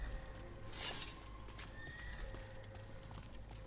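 In the video game Dragon Age: The Veilguard, a horse whinnies once, then hooves clop faintly against a quiet ambient background.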